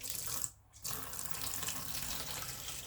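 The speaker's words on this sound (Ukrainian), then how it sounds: "Наливаємо в нашу ємність, ополоскуємо." Water runs steadily from a tap into a container, splashing and swishing, with one brief break near the start.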